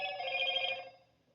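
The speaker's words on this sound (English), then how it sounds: "if you hear the noise in the background, I should have hit my phone in another room" A telephone rings in another room, a single bright electronic trill lasting about a second and then fading away, heard on its own with no talk over it.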